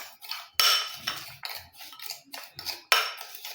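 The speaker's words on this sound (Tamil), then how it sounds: "தேங்காய் எண்ணெயில் நல்லா மிக்ஸ் பண்ணி விட்டுருங்க." Face pack ingredients, including powdered sugar, mixed into coconut oil in a small bowl: sharp, close spoon scrapes and clinks in short irregular bursts separated by brief pauses, with no talk.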